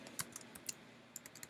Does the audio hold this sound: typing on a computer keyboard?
yes